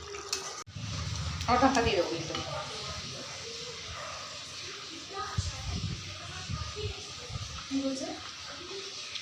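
Cashew nuts being stirred in a frying pan during chicken rezala cooking, soft sizzle with intermittent scraping and clinks while people talk over it at a moderate distance.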